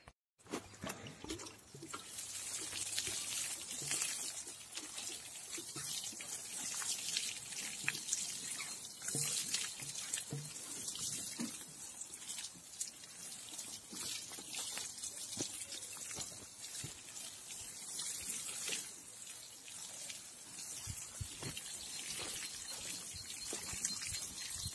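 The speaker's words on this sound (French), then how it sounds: "Voilà, maintenant je vais arroser." Water pours steadily onto freshly transplanted pea seedlings, a continuous close trickling and splashing hiss that runs unbroken for the full stretch.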